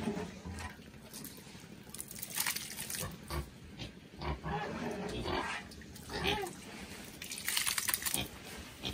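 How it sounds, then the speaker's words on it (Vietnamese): Pigs grunting and squealing at feeding time on a rural Vietnamese family farm, loud and close, with bursts of noisy oinks throughout and people talking in between. "giờ thì các em mới bắt đầu để mà cho lợn ăn quý cô bác ạ"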